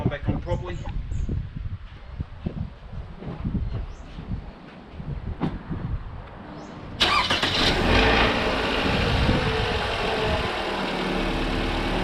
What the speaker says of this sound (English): Just start the car and make sure that everything is working and that everything's gone back on properly.